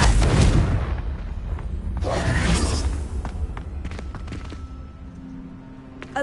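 A Confringo fire spell blast in the video game Hogwarts Legacy, a loud booming explosion with a whooshing burst and rumbling tail that fades over several seconds, with no talk.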